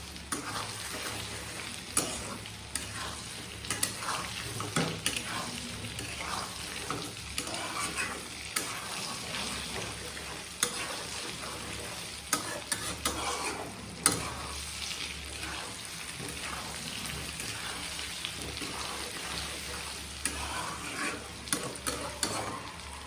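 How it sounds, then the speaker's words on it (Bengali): A sweet-sour olive pickle with sugar is stirred constantly in a hot pan, giving a continuous low sizzle with soft scraping and clinks from the spoon against the pan, steady and fairly quiet. "এখন হচ্ছে অনবরত নাড়তে থাকতে হবে, তা না হলে চিনিটা নিচে লেগে যাবে।"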